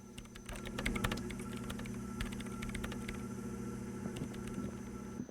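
Steady rapid typing on a computer keyboard in the video game Disco Elysium, clicky keystrokes in an unbroken run over a constant low machine hum.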